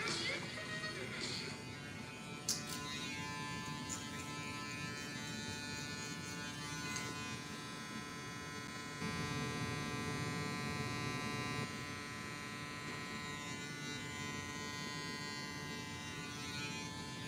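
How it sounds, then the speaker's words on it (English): An electric hair clipper buzzes steadily and close by with a bright, high whine, running continuously under faint background sounds, with no talking over it. "Did you do something to that clipper? Sounds loud to you?"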